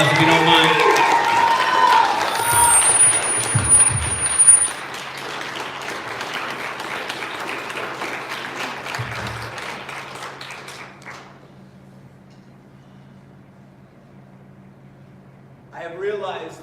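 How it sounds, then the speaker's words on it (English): Audience at a SAAC gathering gives a man a round of applause, loud clapping at first that fades to a faint patter and then silence, with a brief stir of sound near the end. "give Reek a big round of applause"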